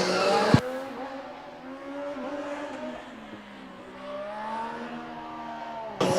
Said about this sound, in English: The car does proceed to drive over the spot where that blue cone once stood